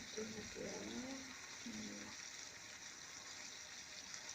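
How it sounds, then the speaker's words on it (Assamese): Chicken fries in hot oil with a steady, close sizzling hiss that runs throughout, while a voice briefly speaks over it at the start. "এতিয়া মই এয়া ভাজি লৈছোঁ"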